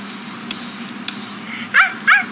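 A puppy in a video game gives two short, high yips close together near the end, over a low steady background hum.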